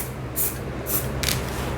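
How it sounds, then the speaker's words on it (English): Three short hissing bursts of a black spray paint can sprayed onto a putty knife for sci-fi spray paint art, each under half a second with short pauses between, close and fairly loud. "we're gonna spray black on the putty knife"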